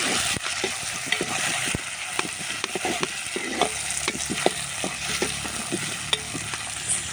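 Golden fried onions sizzle steadily in a pan as chopped tomato joins them, with repeated scraping and stirring of a spatula over constant hot-oil crackle, close and fairly loud, no voices.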